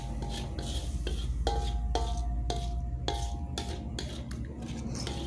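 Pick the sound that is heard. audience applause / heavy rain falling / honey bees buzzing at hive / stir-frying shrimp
stir-frying shrimp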